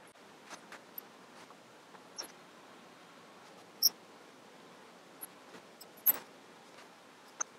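Several sharp, sparse computer mouse clicks, close and quiet, while selecting options to run a CrystalDiskMark drive benchmark on an Intel NUC mini PC, with a soft background hiss.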